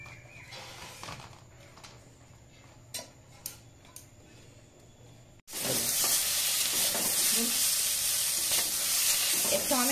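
Tomato and three dried red chillies hit hot oil partway through, bursting into a loud, dense, steady sizzle after a quieter stretch of faint ticks and clinks.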